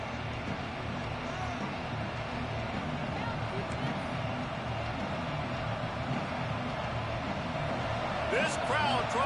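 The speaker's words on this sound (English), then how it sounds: "This crowd trying to show them what it's going to be like all day in this house" A college football stadium crowd at Notre Dame versus Illinois roars as a continuous dense wash of noise, loud and steady, rising slightly near the end, with a commentator's voice over it.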